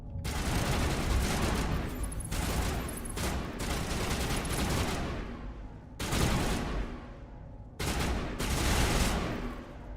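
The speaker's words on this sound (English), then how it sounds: "What are you shooting at?" Sustained gunfire in Mass Effect, dense overlapping shots in long bursts with brief pauses between volleys, loud and close throughout.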